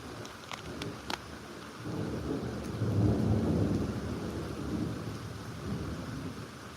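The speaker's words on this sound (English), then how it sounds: "We're here for the storm anyway." A thunderstorm rolls in as a low, swelling rumble of thunder that builds and fades over several seconds, with steady rain hissing underneath and a few sharp clicks near the start.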